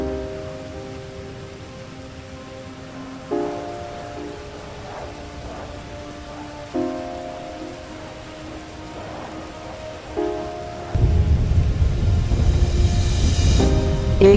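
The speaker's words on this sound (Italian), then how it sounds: "All'improvviso ha incominciato a piovere." Rain falling in the video game GTA 5, a soft steady patter under tonal game music that swells into a heavier, louder downpour toward the end.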